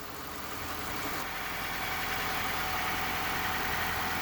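A Honda car engine idling after a blown hose was repaired, a steady even hum that holds level throughout, close and moderately loud with no talking.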